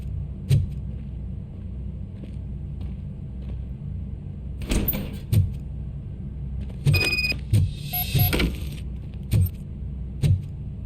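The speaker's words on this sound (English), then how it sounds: "Now let me get that door open for you." A door being opened in the video game RoboCop: Rogue City produces a series of mechanical clunks and thuds, with a burst of whirring, clanking metal in the middle, all close and distinct.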